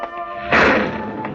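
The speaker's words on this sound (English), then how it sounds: "The sound you hear is the far-off thunder made of heat and air currents and stratosphere" Far-off thunder in an old-time radio drama, a broad rumbling swell that rises suddenly midway and then slowly fades over a low steady background.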